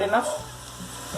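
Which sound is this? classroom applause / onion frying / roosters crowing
onion frying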